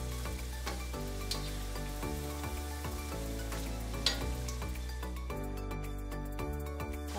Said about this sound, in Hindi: तेल गरम हो चुका है, अब उसमें फ्राई करेंगे।